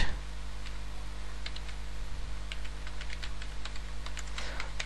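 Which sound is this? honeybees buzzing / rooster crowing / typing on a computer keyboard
typing on a computer keyboard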